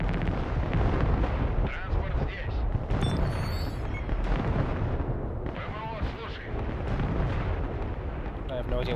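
Gunfire and artillery in the Broken Arrow real-time war game: heavy booms and rapid bursts of shots pile up in a dense, continuous barrage, loud and close, with someone talking underneath.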